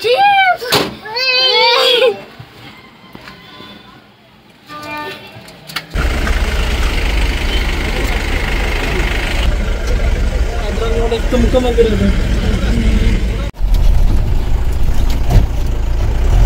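Vehicle engine running on a rocky off-road route during a family trip, a steady loud rumble filling most of the clip after an opening stretch of voices, briefly cut off near the end before resuming.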